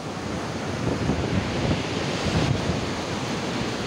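Typhoon waves surge onto a coastal road in Tanza where boats have been pushed up beside the roadway, a steady loud wash of surf with gusting wind noise and no voices.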